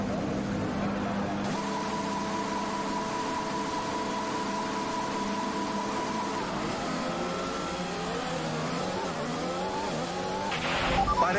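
Formula 1 car in the F1 2021 racing game on the Austrian track, running on medium tyres: a steady engine drone with rising and falling gear-change harmonics throughout, plus a brief tyre squeal near the end.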